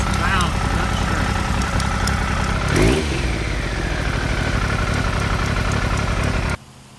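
A project vehicle's engine runs at a steady, close, clattering idle with one brief rev midway, then cuts off abruptly near the end.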